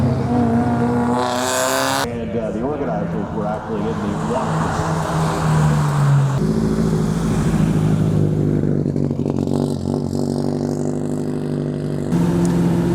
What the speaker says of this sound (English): Another group of cars heading back down the track for another blast backup.